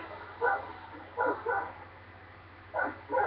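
Dog barking in GTA 5: four short, moderately loud barks in two pairs with gaps between them, over a steady low game hum.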